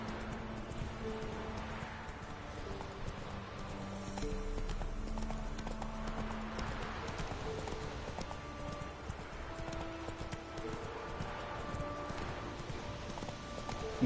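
Hooves of the horse Roach galloping in The Witcher 3, a steady rhythmic clip-clop lasting throughout at moderate level, with game music in the background.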